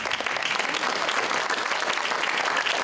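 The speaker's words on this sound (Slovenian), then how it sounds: "Ali namenimo še en ogromen aplavz?" Audience in a hall applauds at a youth music and dance performance, a dense, even wash of clapping that stays loud and continuous throughout.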